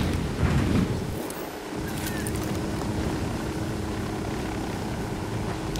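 Helicopter rotor and engine drone in the Ghost Recon Wildlands game, a steady loud whir holding at close range throughout as the aircraft sets down, with no talk over it.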